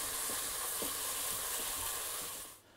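A pukeko stew mixture with roasted capsicum being stirred in a pan, giving a loud, steady hiss of sizzling with soft scraping strokes before it cuts off near the end.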